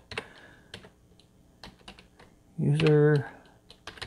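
Scattered keystrokes on a computer keyboard while a script is typed, soft and close, with a short spoken word in the middle.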